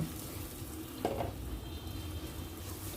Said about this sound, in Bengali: ভালো করে ভেজে নিব এগুলো একদম যতক্ষণ লাল না হয়ে যাবে